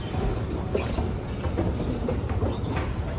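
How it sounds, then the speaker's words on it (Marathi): An airport terminal shuttle train runs between terminals with a steady mechanical rumble and faint rail clatter, close and continuous, with no voices. "ही होती शटल ट्रेन"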